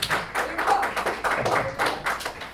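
A Korean Presbyterian congregation claps in welcome during a Sunday worship service. Distinct hand claps come in close, irregular bursts, loud at first and then settling into a lighter patter, with no voices over them.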